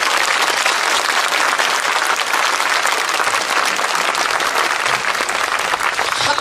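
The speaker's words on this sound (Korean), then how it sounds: "이럴 때는 원래 이 부산 경남에서 이래 박수 한번 쳐야 됩니다." An audience at a public lecture in Bongha Village bursts into dense, sustained clapping that stays loud and steady from start to finish, with no speech over it.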